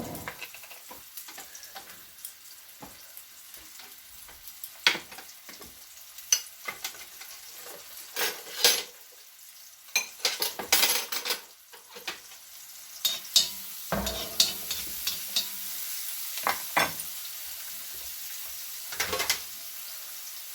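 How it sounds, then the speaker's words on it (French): Onion, ginger and chili fry in oil while a plastic spoon stirs them, giving a quiet sizzle punctuated by irregular scraping taps and clicks against the pan. "ici dans le fond d'huile, je vais mettre l'oignon, l'ail, non, l'oignon, gingembre et piment."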